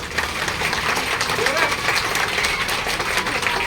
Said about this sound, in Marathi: या ताईसाठी एकदम जोरात टाळ्या वाजवायच्या